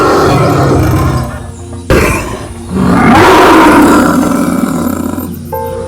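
Several tigers roar loudly and close in a jungle, with overlapping deep, sustained roars that break off briefly near the two-second mark and then swell again into a long, rumbling roar.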